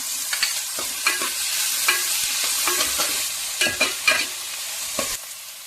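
Green chillies fry in hot oil in a pan for a traditional Chikkamagaluru-style chicken fry, with a close, bright sizzle broken by repeated scraping stirs of a spoon against the pan.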